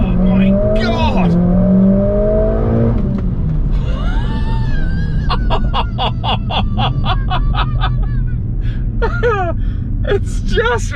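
A 500 hp Mercedes-AMG A45 S engine revs hard in a launch-control start and climbs through gears in quick succession, loud and close, with gasps and excited exclamations over the roar.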